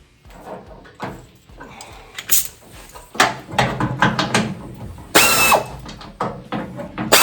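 A ratchet fitted with a 7/16 socket turns a bolt during the teardown of a 1970 Dodge Challenger field find. Bursts of rapid pawl clicking come close and loud, with clanks of metal handling in between.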